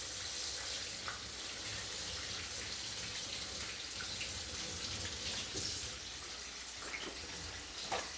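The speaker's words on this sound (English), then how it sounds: "wash my hands again." Tap water runs steadily from a kitchen faucet as hands are washed during chicken and waffle prep, a continuous hiss with faint splashes throughout.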